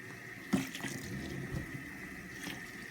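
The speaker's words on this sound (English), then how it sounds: "You turn on the water." Water runs from a tap, a steady close hiss and splash with a few sharper clatters, moderately loud and alone.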